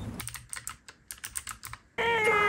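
Typing on a mechanical keyboard fitted with brown switches, heard as quick bursts of soft clacking keystrokes in an irregular rhythm, close and clear, before a sudden burst of different noise at the end.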